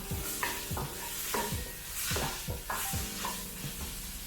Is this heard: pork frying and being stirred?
yes